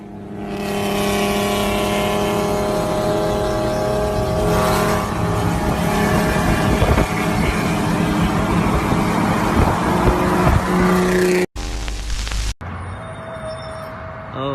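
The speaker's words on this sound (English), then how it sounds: "Tesla Roadster launch." A Tesla Roadster launches and accelerates hard, giving a loud rising whine and roar that builds for several seconds. The sound cuts off abruptly near the end, followed by a brief jumbled burst.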